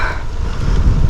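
Strong wind buffets the microphone during a coastal bike ride in Estonia, a loud continuous low rumble and roar with no other sounds.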